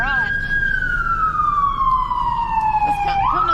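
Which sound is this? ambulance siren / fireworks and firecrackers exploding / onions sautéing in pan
ambulance siren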